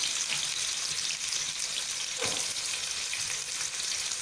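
Onions frying in hot oil with cumin seeds for chicken mandi, a steady close sizzle and hiss with faint stirring, no talking.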